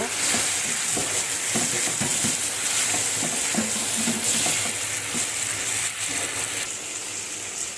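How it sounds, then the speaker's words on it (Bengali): Potatoes and tomatoes sizzling steadily as they are stirred and sautéed in a hot pan, with a constant frying hiss and light scraping of the spoon throughout, and no talk. "টমেটো দিয়ে কিছু সময় কষিয়ে তারপরে মাছ দিব"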